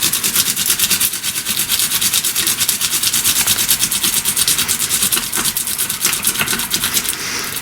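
Garlic rubbed back and forth on a ceramic garlic grating dish for Italian meatballs, a fast steady series of close, scratchy rasping strokes in an even rhythm, with no voices.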